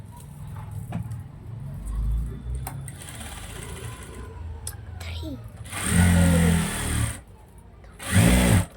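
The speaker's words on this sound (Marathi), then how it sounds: "बघा, याला मी सरळ शिलाई टाकून देते." A sewing machine runs straight stitches attaching a sleeve to a ready-made dress, with two short, loud whirring bursts late on, alongside a person speaking and quieter handling of the fabric.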